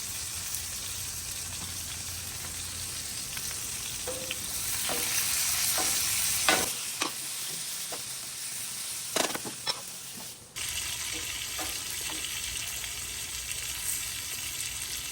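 Meatballs sizzling on a grill, a steady loud frying hiss with bursts of crackle and a few sharp clicks and clatters partway through, no voices.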